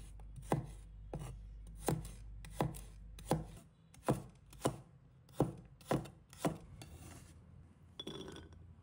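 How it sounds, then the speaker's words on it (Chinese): A knife chops garlic into small pieces on a cutting board, about a dozen sharp, evenly spaced chops close up with no voices. "准备几个大蒜，把它切成小块。"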